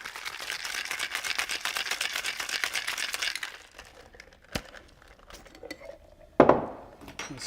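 Ice rattles hard and fast inside a cocktail shaker as a gin fizz is shaken steadily for several seconds, followed by a few clinks and a loud clatter as the shaker is set down.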